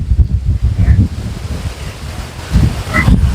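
Strong wind from a windstorm buffets the microphone outdoors in a hometown, rumbling in loud gusts at the start and end with a calmer stretch between.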